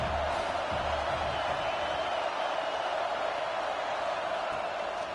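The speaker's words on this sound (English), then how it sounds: "how nice is it to have the home crowd going absolutely bananas" A home crowd at a football game roars in a dense, continuous wash of cheering that holds steady and loud throughout, with no distinct voices standing out.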